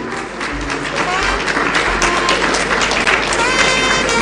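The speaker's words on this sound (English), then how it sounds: "Please, let's clap." A crowd applauds at the signing of a presidential candidates' peace pact at the Kempinski hotel, loud, dense clapping that swells and stays strong throughout.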